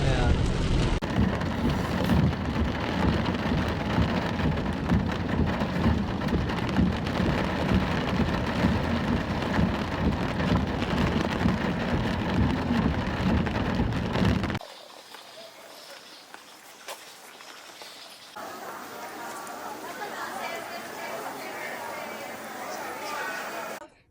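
Rain falls steadily on a city street, a loud continuous patter mixed with wind buffeting. Partway through, the sound drops to a softer, more sheltered hiss.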